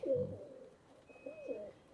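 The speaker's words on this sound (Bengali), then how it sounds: "এই কবুতরটা হচ্ছে সেই আমাদের পুরনো কালশিরা কবুতর" Old Kalshira breed pigeon giving two soft, close coos, a low throaty rolling call near the start and another after a brief pause.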